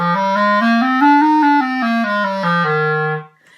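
Clarinet finger exercise flowing into a scale played up and back down, a smooth legato run of close, steady-stepped tones, loud and unaccompanied, ending in a held low note.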